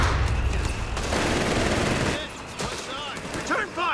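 Machine gun fire in Company of Heroes 3, dense rattling bursts mixed with other battle noise, loud and sustained through the first half, with a commentator talking over it.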